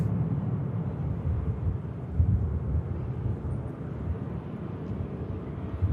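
Saudi airliner lining up on the runway at Manchester Airport, a steady low rumbling engine drone heard from a distance, continuous and fairly faint, with wind-like background noise.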